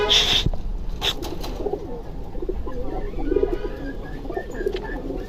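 Soft coos of two caged male pigeons repeat in low rhythmic bursts against a steady background hum, with a brief high bird chirp near the start.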